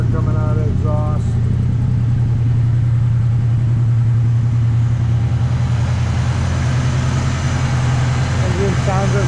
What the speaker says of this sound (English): Exhaust sounds fantastic. Got the rumble of the 60s.